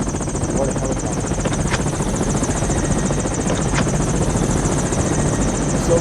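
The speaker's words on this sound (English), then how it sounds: "What a helicopter." Helicopter in a video game, a steady, loud rotor whir and engine drone held without pause throughout, with faint voices beneath.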